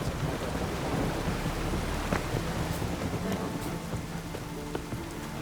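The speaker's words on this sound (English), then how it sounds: "I love the rain." Rain and thunder in the video game The Witcher 3, with dense steady rainfall, scattered drops and a low rolling rumble of thunder running throughout, no speech.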